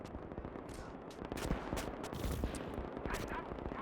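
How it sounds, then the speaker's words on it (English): Dense battlefield din from a Gates of Hell bridge-crossing battle, with rapid overlapping gunfire, machine-gun bursts and explosive blasts layered into a continuous loud roar. "Huge explosion."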